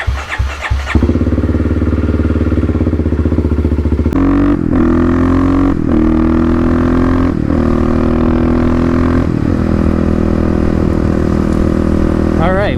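A Kawasaki KLX351 with a lidless airbox starts and settles into a loud, steady idle, its intake roar and throttle blips rising and falling close by.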